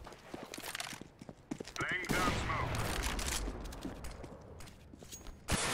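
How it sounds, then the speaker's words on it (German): Rapid bursts of gunfire in Counter-Strike: Global Offensive crackle and pop, with a dense volley in the middle and scattered sharp shots around it. "Wo gehen da bitte die Schüsse hin?"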